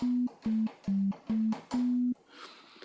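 Default tone of an analog triple VCO synth in FL Studio: five clean, steady sustained notes near the same pitch, short and evenly spaced with the last held longer, followed by faint low noise.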